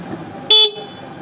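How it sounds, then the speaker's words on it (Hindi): Single stock horn on a 2022 Honda SP 125 motorcycle, one short loud beep standing clearly above quiet background talk. "मैं हॉर्न सुना देता हूँ आपको, हॉर्न यहाँ पे है"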